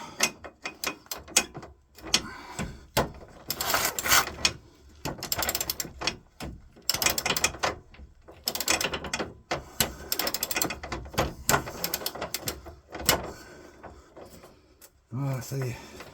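Ratchet wrench with a large socket loosening a self-locking suspension nut on a Dacia Duster 1.3 TCe, giving bursts of rapid clicking and metallic clatter in uneven spells over a quiet garage background, close by, with brief pauses between.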